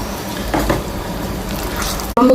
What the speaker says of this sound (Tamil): மிக்சி ஜாரில் கொஞ்சம் தண்ணி ஊற்றி அலசி ஊற்றிக்கோங்க.